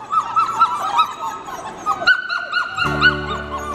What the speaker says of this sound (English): Wow, you found your bark.